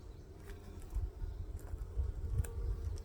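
Honeybees in a calm, well-fed hive with pollen and nectar-filled comb give off a low, steady droning hum, faint and continuous, with soft rustling from the frames.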